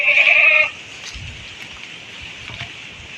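A single loud, nasal goat bleat rings out close by at the start, then gives way to quiet farm background with faint rustling.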